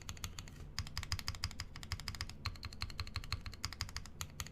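Fast, steady typing on a Bakeneko mechanical keyboard build, crisp clacking keystrokes in quick irregular runs with a brief pause, close and alone.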